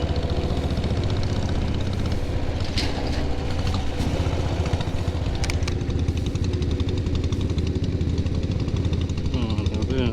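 A Royal Enfield Diesel Bullet motorcycle thumps along on a ride, its diesel engine hammering out a loud, steady, rapid beat with constant wind rush from start to finish.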